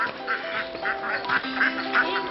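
Ducks at a pond quack repeatedly in short nasal bursts, a steady rhythm of calls at moderate distance over faint background ambience.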